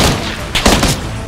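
Gunfire in PUBG comes as a loud, close burst of several rapid shots over a dense, noisy game background, all within a brief moment.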